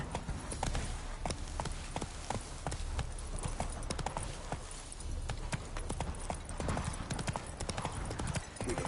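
The horse Roach gallops in The Witcher 3, with rapid rhythmic hoofbeats thudding steadily and close throughout.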